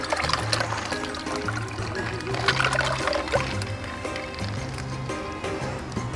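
Ice water pours into a brine bag for chicken thighs in an outdoor kitchen, a steady splashing trickle with clinking ice under a low rhythmic background.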